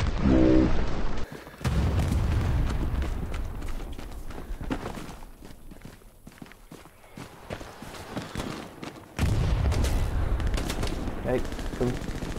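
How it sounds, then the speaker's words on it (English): Gunfire in the console shooter Hell Let Loose, loud bursts and scattered shots with running footsteps, a fuller burst at the start and again near the end, quieter stretches between. "Getting shot at now."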